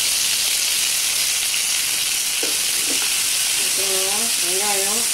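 Onion and green chilli sizzle in a pan of ragi vermicelli upma, a loud, steady frying hiss up close, with a voice speaking briefly near the end.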